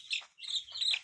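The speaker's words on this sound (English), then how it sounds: "She's quite a large little chicken." A ginger baby chick, a large young chicken with feathers coming in, gives a few high, thin chirps in quick succession, close and fairly clear, with no talking over them.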